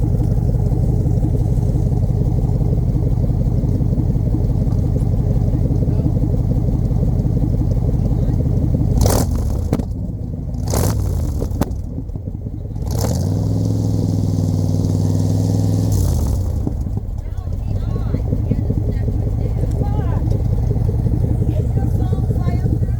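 An old Dodge W250 truck engine running steadily through its reworked exhaust, with a low, even rumble that dips briefly in the middle before returning, loud and close.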